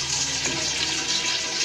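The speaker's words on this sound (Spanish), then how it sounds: "A ver, necesito más agua." Water poured into a pot of hen soup during cooking, a continuous splashing, filling rush at a fairly loud, even level with no talking.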